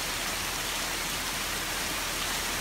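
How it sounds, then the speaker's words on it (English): Heavy monsoon rain falls at a building site in Bangladesh, a dense, even wash of drops with no breaks and no voices. "a beautiful monsoon rain"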